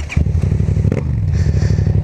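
A motorcycle's engine drones steadily and close as the bike pulls away, with a brief clatter near the start.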